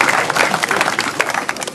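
An audience applauds at a breakdance top rock and footwork event, a brief burst of dense, close clapping with crowd noise mixed in.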